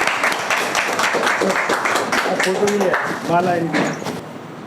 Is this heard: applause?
yes